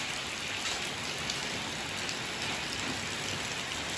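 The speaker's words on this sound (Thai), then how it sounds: "ฝนตกทั้งวันนะครับฝนตก" Heavy, steady rain pours down during an all-day downpour with flooding streets, a dense, even hiss that stays loud and unbroken throughout, with no voices.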